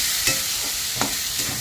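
Slit green chilies and chopped onion fry in catla fish oil tempered with black cumin, a loud, close, continuous sizzle broken by a few soft stirring scrapes, with no talking.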